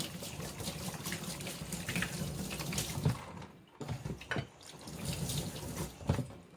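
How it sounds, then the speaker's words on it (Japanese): Running tap water rinses an abalone shell clean in a sink, heard as a close, continuous splashing stream with brief dips where the flow is broken up, and no talking. "ここをきれいに殻っていうか岩についてるところはきれいに洗い去ります。"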